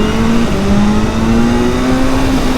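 A 2025 BMW S 1000 R motorcycle engine revs from about 3000 rpm, giving a loud, steady, close-up drone whose pitch climbs slightly and then holds, with no voices.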